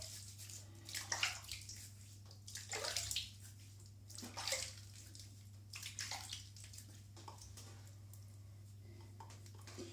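Splashing bursts of running water as someone rinses their face after a shave, irregular and close, coming in several short gushes over a quiet, steady low hum.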